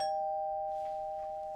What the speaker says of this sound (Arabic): دلوقتي هيرن جرس باب شققكم.